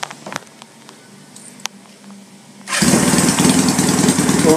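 A Honda CB200 motorcycle engine, timing set at top dead center, runs at 1,200 RPM. The first seconds are quiet with a few faint clicks, then the engine bursts in loud and close as a steady, dense idle drone.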